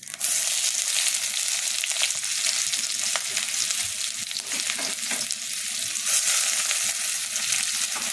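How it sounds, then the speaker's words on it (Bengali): Sliced onion fries loudly in oil tempered with whole cumin and bay leaf, a dense continuous sizzle with occasional stirring scrapes, close and without talk. "পেঁয়াজটা একটু লাল লাল করে ভাজা হলে তারপর আমি বাকি মশলাগুলো অ্যাড করব"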